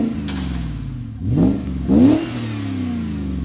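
A BMW E30 325i fitted with a valved exhaust gives two short, throaty revs in quick succession over a steady idle burble, each rise swelling briefly louder before settling back; close and alone.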